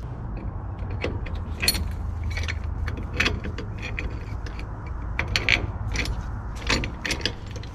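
Homemade puller with fabricated arms working on a 1952 Willys Overland 4x4 truck, giving repeated metallic clicks, clanks and ratcheting knocks over a steady low rumble, close by and fairly loud.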